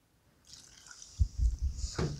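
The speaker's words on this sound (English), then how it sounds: "we want to add about 3 cups of milk" Milk poured into a saucepan for maple sausage gravy, a soft liquid trickle and splash that builds and continues steadily, close and fairly quiet with no talking.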